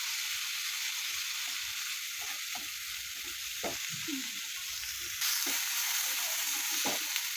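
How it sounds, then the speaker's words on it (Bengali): A fish mixture sizzles steadily in hot oil as cumin powder is stirred in, with a spatula scraping and knocking against the pan at irregular intervals over the constant frying hiss. "এই জিরা গুঁড়ো দিয়ে ভালো করে একটু নাড়াচাড়া করে নিই"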